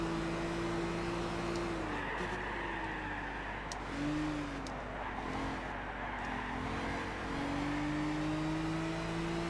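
A race car driven in the Gran Turismo 6 video game on a Tour of America event: a steady engine drone rises and falls in pitch as it shifts through gears. It is loud and continuous, with brief tire noise and no talking.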